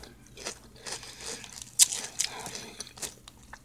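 Herr's cheddar horseradish potato chips crunch loudly right at the mouth, with several sharp bites followed by quieter, irregular chewing crackles.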